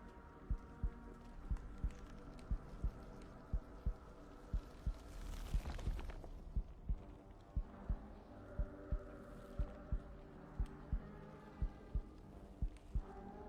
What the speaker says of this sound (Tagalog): Ang lakas ng heartbeat nun sa akin.